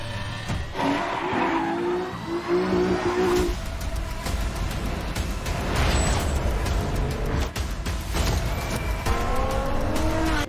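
Race cars in the Gran Turismo video game squeal their tires through skids while engines rev and whine, several loud screeches and passing bursts over about ten seconds with no talk.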